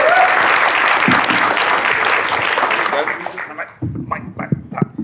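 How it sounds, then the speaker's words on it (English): Loud, dense applause from a panel audience at a comics convention, steady for about three seconds and then breaking into scattered, thinning claps before fading out. "Round of applause."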